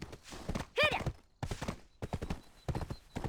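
A horse's hooves clip-clop steadily in the video game Black Desert Online during a mountain climb, with a brief whinny early on and rhythmic hoofbeats continuing throughout.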